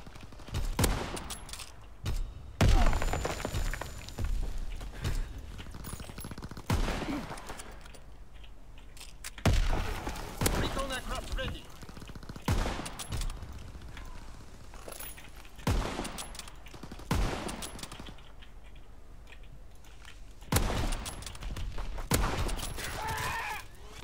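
Gunfire in the Call of Duty WW2 game on a USS Texas domination map, repeated sharp bursts and single shots spread across the stretch, loud and close, with game sounds and occasional voices.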